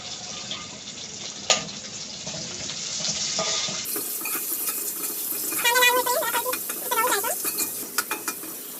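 Onion for sambar sizzles in a pan under steady stirring, a close hiss that brightens after an abrupt cut, with crackling bursts and scraping strokes toward the end.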